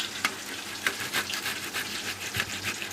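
Potatoes fry in a pan with a busy, close sizzle. Repeated scraping strokes from stirring punctuate it, and no talking is heard.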